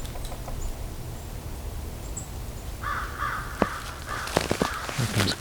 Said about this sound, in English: Here comes a crow.